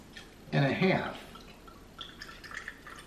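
Amaretto poured for an amaretto sour cocktail, a short close liquid pour and trickle in the middle, followed by a few faint drips, with no talking over it.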